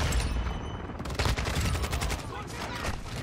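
Rapid automatic gunfire from a Kastov-74U in Modern Warfare 2, a loud, close burst of sharp repeated shots over a busy multiplayer background.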